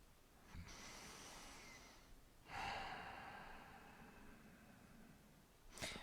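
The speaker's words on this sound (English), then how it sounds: "you probably hear some heavy breathing going on out there" Heavy breathing picked up by a headset microphone during a T'ai Chi Chih session: two slow, drawn-out breaths, quiet and close, with airy hiss and no talking.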